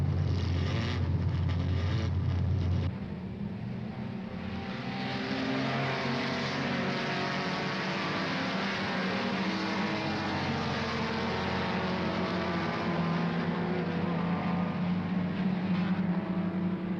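Triumph TR race cars with race modifications at Le Mans roar steadily at full speed, a dense, continuous engine drone that holds loud from start to finish with no voices.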